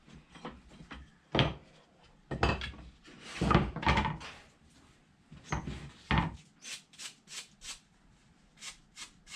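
Repeated rough scraping strokes of sanding on wooden shelves, irregular bursts of rasping friction close by, ending in a quicker series of short strokes.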